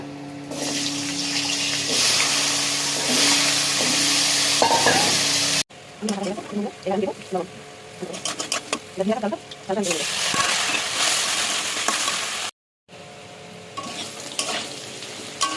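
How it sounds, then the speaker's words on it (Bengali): Washed potatoes fry in a pan with bay leaf, whole garam masala and nigella seeds, producing a loud, steady sizzle broken by cuts, with stirring, clattering sounds and bursts of running water in between. "আলুটা ভাজা হয়ে গেছে। দেখুন কত সুন্দর ভাজা হয়ে গেছে।"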